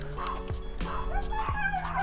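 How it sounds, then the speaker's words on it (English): Small dogs yipping and barking a few times in the distance, sharp repeated yelps over a steady background hum. "And then my dogs are barking."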